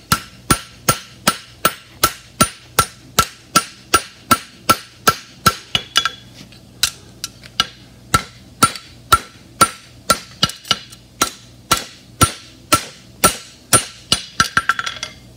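Hammer blows ring on metal against an anvil while the smith works a corner, striking at a fast steady rhythm of sharp, close, loud clanks with a brief pause midway before the blows resume and quicken at the end.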